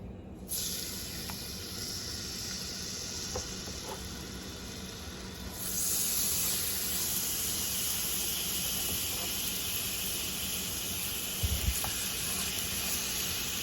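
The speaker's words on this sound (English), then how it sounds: "we're just going to place this in and we're just going to sear them on both sides" Pork chops searing in avocado oil in a hot skillet, a constant loud sizzle and hiss that swells as the meat goes in, close and steady, with no talking.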